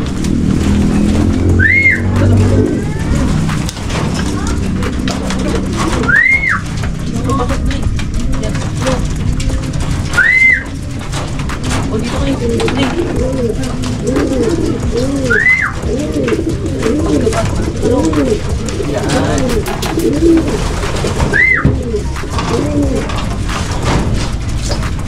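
Pet pigeons coo repeatedly in a loft, soft throaty calls bubbling along steadily while a brighter rising whistle-like note recurs every few seconds over background noise.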